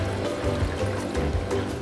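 Aquarium water pours with fish, including a pajama cardinal, into a tank: a steady, close, continuous splashing trickle with no pauses and no talking.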